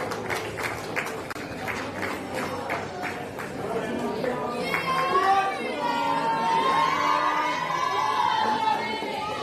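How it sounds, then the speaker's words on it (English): A crowd cheers and chatters at the seniors semi-finals of the 2025 New Zealand secondary schools bouldering cup, with the noise swelling in the second half beneath a commentator's steady talk. "As you can hear, one of the crowd favourites, we have Rena Park from Waikato Tyson School"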